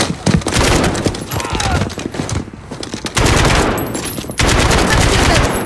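Rapid gunfire from an ambush in Call of Duty Modern Warfare 2019 comes as dense, loud bursts of automatic fire, with a short lull in the middle before heavy firing resumes.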